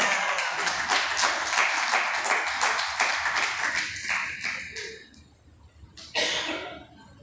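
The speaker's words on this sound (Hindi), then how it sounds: "एक बार एक कैमरा घुमा के मेमोराइजिंग वालों के लिए तालियां तो बजवा दो।" Lecture audience applauding, a dense wash of many hands clapping that fades out toward the end, with one brief louder burst near the close.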